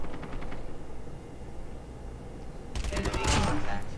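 Bursts of rapid gunfire in a multiplayer shooter game aimed at a deployed sentry gun. The shots rattle faintly at first, then come louder and closer near the end over game ambience.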